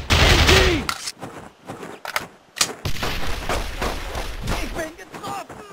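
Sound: machine gun fire in a PSP shooter video game

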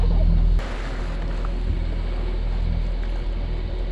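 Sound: sailboat under motor

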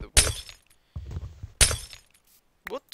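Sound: glass block breaking in Minecraft video game

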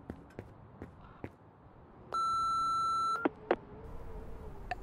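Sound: voicemail beep from the video game Remothered: Broken Porcelain

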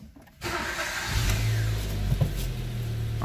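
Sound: Ford Ka 1.5 Sigma car engine starting

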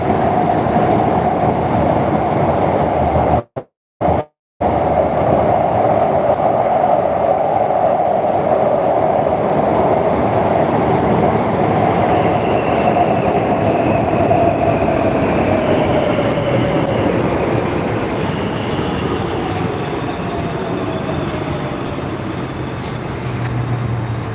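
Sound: Warsaw metro train riding

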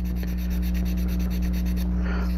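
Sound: wet sanding a model kit part

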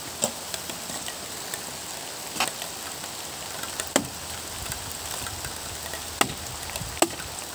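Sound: heavy rain falling at a field hut

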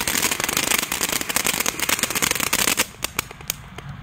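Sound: fireworks exploding

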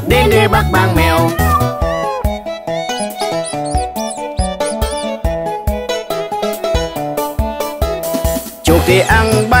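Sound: cat meowing

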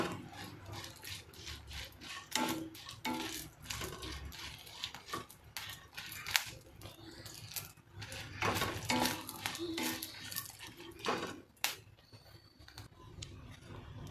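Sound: chutney ingredients roasted and stirred in a pan on low flame

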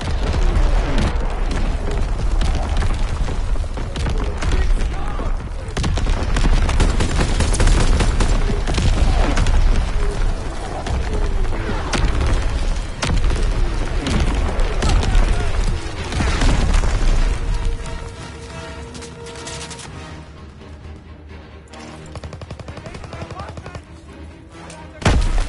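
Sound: incoming artillery fire and explosions

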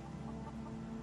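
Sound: hens clucking in the video game Skyrim

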